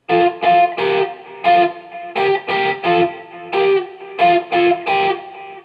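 Slightly driven electric guitar plays measures 120 and 121 of a song, live AGT version, as two near-identical phrases of punchy, short chord hits and single notes, close and clear with no voice.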